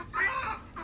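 A chicken gives a brief clucking call from the poultry sheds on a farm, a single short vocalisation heard at moderate distance.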